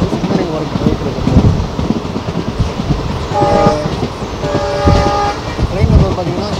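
Indian passenger train running on the Tiruchchirapalli to Pudukottai line, heard from inside with a steady rumble and clatter of wheels, brief horn-like tones sounding midway, and some background voices.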